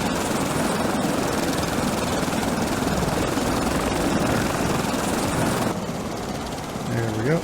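Steady, loud helicopter rotor and engine roar from the Stranded Deep survival game, running without a break for several seconds before the pitch shifts near the end, with a voice over it.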